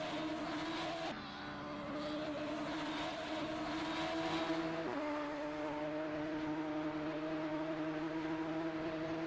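Radical race cars in a multiclass endurance race at the Feldbergring circuit in a racing game howl steadily with strong tonal engine notes, dropping pitch at gear changes around one and five seconds, loud and without talk.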